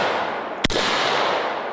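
One sharp, loud shotgun blast from an SDS Tac-12 firing low-recoil number 8 shot, a single abrupt bang followed by a brief ringing decay over steady outdoor background noise.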